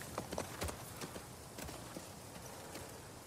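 Horse hooves clip-clop in The Last of Us Part 2 while a rider is mounted, a steady walking rhythm of soft, fairly faint hoof beats.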